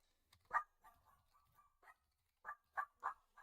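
A dog barks somewhere off in the distance, giving faint intermittent yaps and then a run of three or four quick barks near the end, with no voices over it.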